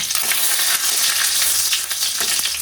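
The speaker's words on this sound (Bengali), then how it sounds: "কড়াই দিয়ে দেবো সরিষার তেল তেজপাতা লঙ্কা আর কালো জিরে ফোড়ন দিয়ে নেব" Bay leaf, chilli and black cumin sizzle and crackle loudly in hot mustard oil, a dense, continuous frying hiss close by with scattered pops.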